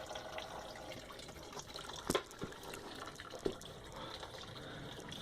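Coolant water drains from the radiator of a 2004 GMC Envoy, a faint, steady trickle and splash with a few sharper drips and knocks standing out.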